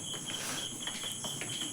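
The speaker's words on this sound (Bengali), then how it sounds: "আর বাইরে ডাকছে ঝিঝি পোকা" Crickets chirp outside at night in a faint, steady, high-pitched trill with repeating pulses, alone in a quiet setting.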